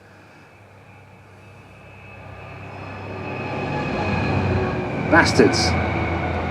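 A train passes near an outdoor metal-melting setup, its rumble swelling steadily, with a short horn-like blast near the end, while someone talks over it.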